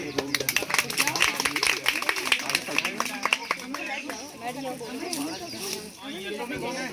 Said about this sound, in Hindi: चलो ताली दो।